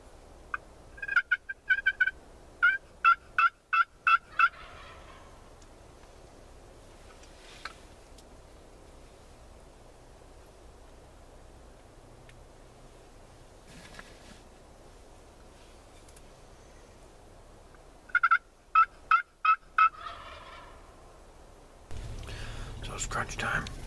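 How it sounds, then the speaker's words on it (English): Wild turkey gobblers call from behind a hunting blind in two rapid rattling bursts of gobbles, fairly distant, separated by long quiet stretches with faint hushed sounds. "We got two or three gobblers back here behind us calling."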